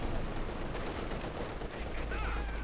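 Light machine gun fire from Guardsmen in Company of Heroes 2, a dense, sustained rattle of automatic shots mixed with battlefield noise for a few seconds.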